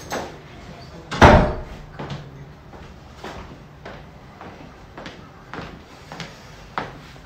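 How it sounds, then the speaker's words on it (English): An indoor door is pushed shut with a firm bang, followed by a series of softer knocks and clicks that could be a lock being worked, all heard fairly close in a quiet room. "Wait, let me lock the door."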